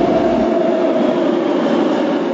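Metro train on the South line in Fortaleza, Ceará, rolling loud and close with a continuous rumbling roar and faint rhythmic wheel clatter, no voices.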